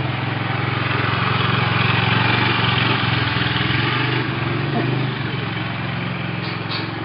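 A rental scooter engine idling on Koh Lanta, Thailand, a loud, steady close-up putter that holds evenly throughout with no speech over it.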